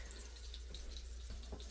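Tap water runs steadily into a pot being filled for stir-fry noodles in a home kitchen, a soft continuous hiss with faint clinks, fairly quiet and alone.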